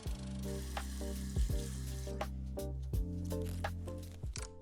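Cold tap water runs steadily into a basin while someone washes their face, a soft continuous splashing with occasional brief knocks and handling sounds, close and fairly quiet.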